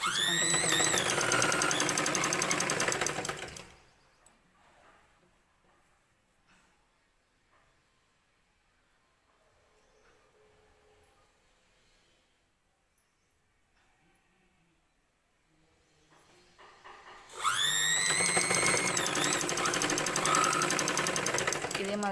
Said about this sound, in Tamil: ஒரு பேக் ஸ்டிச் போட்டுட்டு அதுக்கப்புறம் ஸ்டிச்சை கண்டினியூ பண்ணுவோம்.